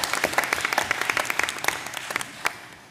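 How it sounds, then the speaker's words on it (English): Applause from an audience at a school choice roundtable, a brief burst of dense clapping that stays fairly steady before thinning out, moderately close and with no talk over it. "Big applause to you and the student."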